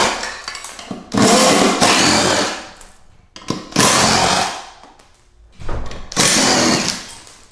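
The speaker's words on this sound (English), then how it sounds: "I'm going to use a 13mm impact drill." A 13mm impact drill whirs in three loud bursts, revving up and whining for a second or two each, with short quiet pauses between, removing screws from a Jazzy Evo 614 power chair.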